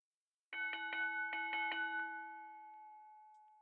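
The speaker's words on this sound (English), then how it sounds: "The dinner bell." A dinner bell rings in a quick run of about eight rapid strikes, clear and close, then a single tone lingers and slowly fades into silence.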